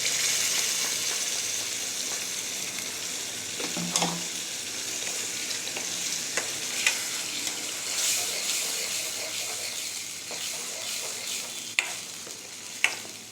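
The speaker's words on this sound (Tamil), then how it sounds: "அரைச்சி வச்ச தக்காளி விழுது ஊற்றிடலாம்." Tomato paste sizzling steadily in a hot pan for Thakali soup, with occasional sharp spoon scrapes and taps as it is stirred, continuous frying hiss throughout and no talking.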